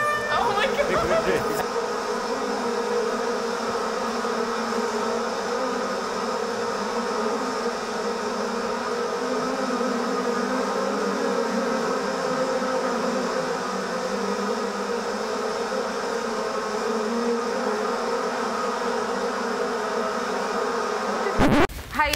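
People imitating buzzing bees with their voices, a sustained droning hum held steadily for about twenty seconds, close and fairly loud, ending abruptly.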